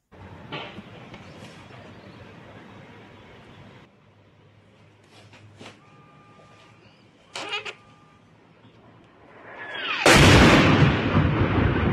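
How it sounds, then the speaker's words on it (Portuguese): Secondary detonation at a destroyed ammunition depot near Donetsk: a sudden, loud broadband blast erupts near the end and sustains as a roaring rumble, following quieter stretches with scattered faint pops and cracks. "dá para ouvir também a, a, detonação secundária ali."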